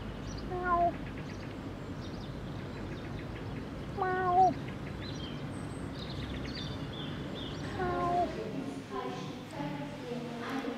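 A Pallas's cat at Hellabrunn Zoo in Munich gives several short, sharp meows spread across the stretch over busy crowd murmur and background chatter.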